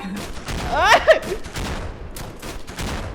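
A few sharp modern gunshots from a sniper-style rifle in Minecraft's Lucky Block Modern Guns mod, fired during a zombie fight, cracking out over excited talking from players.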